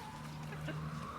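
Hens clucking, soft murmuring calls heard over a low steady background hum, fairly faint and brief.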